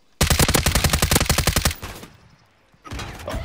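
Call of Duty: Warzone gunfire crackles in a fast, loud automatic burst of about a dozen tight shots lasting roughly a second and a half, then falls silent before another dense burst starts near the end.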